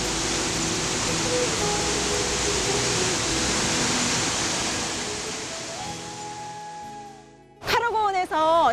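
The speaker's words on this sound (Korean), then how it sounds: "카로고원에서 칼처럼 내리치는 폭포입니다" Sipiso-piso waterfall, a 110 m drop in the Karo Highlands of Sumatra, pours as a steady broadband roar for most of the clip, then cuts away to someone talking at the end.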